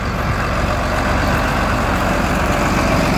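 Steady, loud diesel drone of a tractor turning while pulling a 6300 liquid manure spreader in a field, a constant low engine rumble with no pauses.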